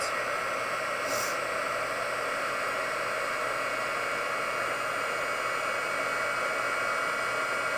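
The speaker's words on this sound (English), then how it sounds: "it'll take just a minute for the heat tool to get warm" A craft heat tool blows hot air to melt embossing powder, giving a steady, loud, unbroken rushing whoosh close by, with no pauses and no talk.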